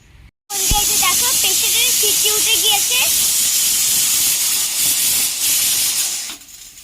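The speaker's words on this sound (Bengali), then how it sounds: "একসঙ্গে দিয়ে প্রেশার কুকারে একটা সিটি দিয়ে নেব" A pressure cooker boiling ghugni ingredients lets off a loud, continuous steam hiss that starts abruptly and lasts about six seconds, with wavering whistle-like tones early on, before cutting off.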